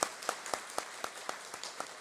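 At a Sunday church service, a congregation claps in slow unison, a steady beat of about four claps per second, moderately loud and even, with no other sound.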